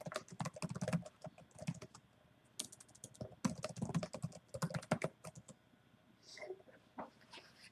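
Typing on a computer keyboard with steady bursts of clicky keystrokes, fairly close and clear, broken by short pauses and with no talk over it.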